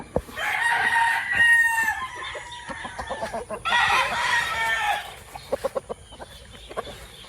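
A Sweater breed gamefowl rooster crows loudly and nearby twice, with clucking and sharp short calls in between.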